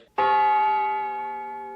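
A single bright bell strike rings out clearly and sustains, slowly fading over a couple of seconds.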